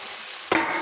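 Tomato gravy frying in a pan for fish curry bursts into a loud, close sizzle about halfway through, after a steady hiss, and keeps crackling to the end.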